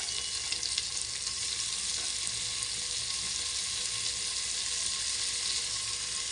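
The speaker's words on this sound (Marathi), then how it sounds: "बघू शकता कांदा आपला हा फ्राय झाला हलका।" Chopped onion frying lightly in a pan while cooking masoor dal, a steady soft sizzle that holds even and continuous throughout at close range, with no talk.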